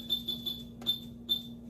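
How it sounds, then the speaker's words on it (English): Short high electronic beeps from a kitchen oven timer being set while baking trays of spinach and artichoke cups, three quick beeps then two more spaced ones, clear and close over a steady low hum. "And we'll set the timer for"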